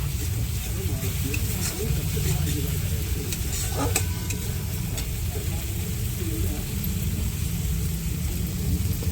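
Ground chili paste and spices stirred in a cooking pan, giving a continuous loud frying hiss with occasional scraping clinks from the utensil, close up and steady throughout.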